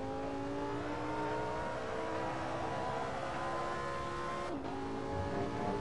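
A Lamborghini, a Sesto Elemento or Huracan Performante, pulls hard under full throttle on a track, its engine tone climbing steadily and loud for several seconds before a brief gear-change dip and another rising pull.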